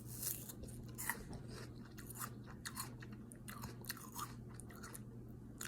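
Loud, close crunching of a crisp apple being chewed, a steady run of wet, crackling bites with a low hum underneath and no talking.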